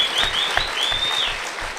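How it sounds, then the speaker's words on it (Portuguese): Audience applause at a talk, a dense, steady wash of clapping hands lasting under two seconds with no voices over it. "Uma salva de palmas, meu amigo."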